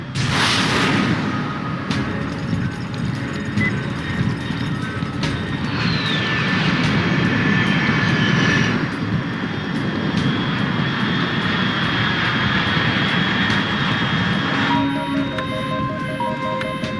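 Aircraft engine flying high overhead in the video game Metal Gear Solid Delta, a loud, steady roar with a faint whine, no voices.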